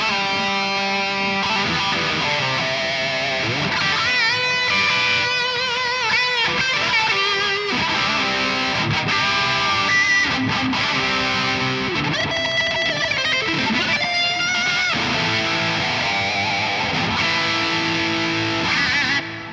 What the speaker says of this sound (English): It's a basic digital delay with one set quarter note repeat